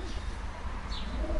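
Racing pigeons coo softly while being basketed for a competition flight in Kosakowo, Poland, a faint, brief murmur of calls under low background rumble.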